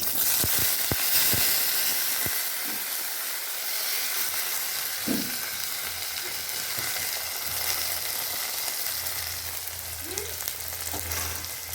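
Small onions frying in a hot pan give a loud, steady sizzle with crackling spits and a few knocks of stirring early on, running continuously without talk.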